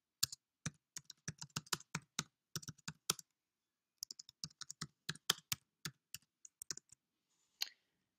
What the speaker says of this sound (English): in here you'll just need to type in the name of the unit that you're about to do